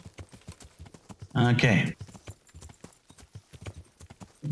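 Horses clip-clop along in Kingdom Come: Deliverance with steady, rhythmic hoofbeats that continue throughout. Someone speaks briefly over them in the middle.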